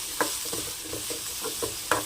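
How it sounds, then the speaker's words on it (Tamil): Potatoes frying with garlic and a pinch of asafoetida in a pan over low flame, stirred with a spoon: soft scraping strokes in a steady rhythm over a gentle sizzle. "மிக்ஸ் பண்ணி விட்டுடலாம். அடுப்பு நல்லா லோ ஃப்ளேமில் வச்சுக்கோங்க."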